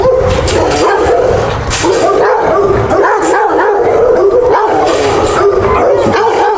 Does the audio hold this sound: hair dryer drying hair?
no